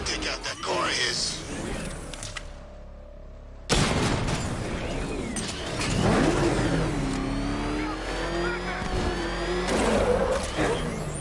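Loud car engine revving in the Batman: Arkham Knight video game, cutting out briefly before surging back in with climbing, sweeping pitch, while voices speak under the engine noise.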